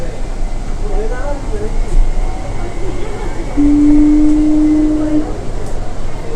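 A metro train runs through India's first under-river tunnel beneath the Ganga, giving a steady low rumble and hum with a rising tonal whine in the middle, continuous throughout and moderately loud.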